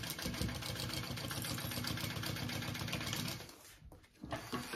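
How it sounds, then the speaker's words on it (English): A sewing machine bastes the exterior of a small crossbody bag, giving a fast, steady mechanical chatter up close that stops abruptly near the end, followed by a brief rustle. "All right, basting the exterior first."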